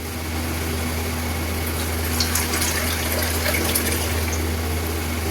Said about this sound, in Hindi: अब इसमें हम थोड़ा सा डालते हैं पानी।